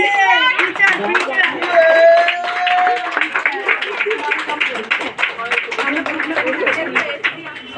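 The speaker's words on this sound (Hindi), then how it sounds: "सारे साथ तालियां बजाएंगे" Audience at a church women's celebration prayer meeting claps steadily to welcome a speaker, dense continuous applause filling the whole stretch, with voices and a sustained tone running underneath.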